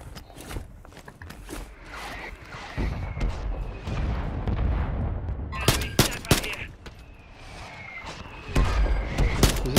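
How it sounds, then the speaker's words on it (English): Mortar strike explosions and gunfire in Call of Duty: Modern Warfare III Warzone, with several loud booms and bursts of shots scattered across a busy battlefield mix, the heaviest impacts arriving near the middle and end. "Mortar strike inbound"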